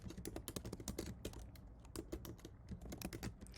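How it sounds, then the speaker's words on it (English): Rapid clacking on a computer keyboard while a git push command is entered, keystrokes close and steady in quick bursts with brief pauses, no talking. "So you're going to type in git push -u origin demo."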